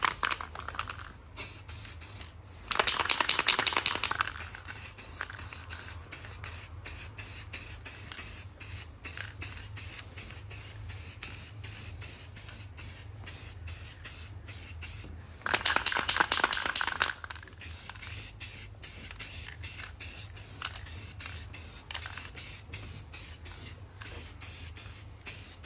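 Second coat of spray paint going onto a salvage car, two long hissing bursts from a spray gun separated by quieter clicking and handling noise.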